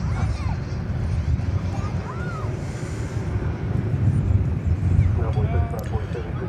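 An American Airlines Airbus A321 lands at DFW Airport, a steady broadband jet roar with wind buffeting on the microphone that holds loud and even throughout.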